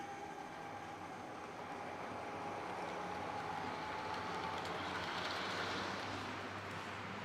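An HO scale model train rumbles steadily along the track with a continuous rolling noise and faint clacking, holding an even level throughout.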